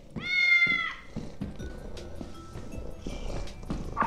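Maxwell, a cat in the video game Lethal Company, gives one long, loud, close meow at the start, followed by quieter clattering game sounds and faint further noises.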